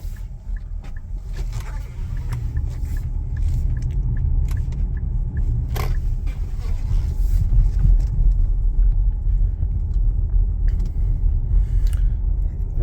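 Cabin noise inside a Nissan Ariya Evolve+ electric car, windows shut, over broken pavement: a steady low road rumble with light bumps and rattles, moderately loud and continuous throughout.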